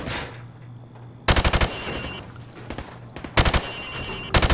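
Rifle fired from the hip in a Modern Warfare Remastered campaign training level: three loud bursts of rapid automatic shots, each about a quarter second, separated by quieter ambient game sound.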